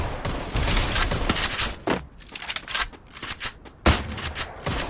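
Rapid gunfire from a battle royale video game crackles in dense bursts and single sharp shots, loud and close, with short lulls between volleys.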